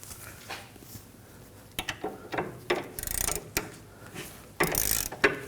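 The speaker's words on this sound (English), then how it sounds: "Using a 17mm socket, we're gonna go ahead and take the bolts out." A ratchet with a 17mm socket clicks in short bursts while loosening the front brake caliper bracket bolts on a 2011-2016 Kia Optima, with quick metallic ratcheting spurts and a louder stretch near the end.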